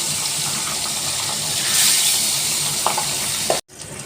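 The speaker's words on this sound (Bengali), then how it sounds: "নুন হলুদ মাখানো পাবদা মাছগুলো ভেজে নেব।" Pabda fish rubbed with salt and turmeric frying in hot oil, a loud, steady, close sizzle that swells midway, with a couple of light clinks before a sudden cut to near silence and a quieter hiss.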